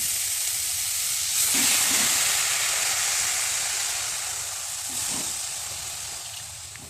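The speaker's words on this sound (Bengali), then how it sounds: "কড়াইতে এখন আমি শাক আর আলুগুলো দিয়ে সুন্দর করে সেদ্ধ করে নেব" Bottle gourd greens and potatoes cook in a wok, giving a steady soft steamy hiss with faint bubbling, fairly constant and close; no talking.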